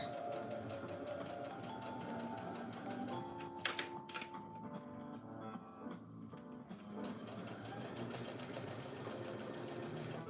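A sewing machine topstitches a hoodie seam at about a quarter inch, its needle chattering in a rapid steady run, close but fairly quiet, with a brief pause partway through.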